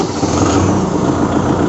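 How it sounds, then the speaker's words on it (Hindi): A Kubota MU4501 tractor engine runs at a steady, fairly loud idle, a continuous rumbling drone with no voices over it. "चाबी से ही ट्रैक्टर चालू होता है"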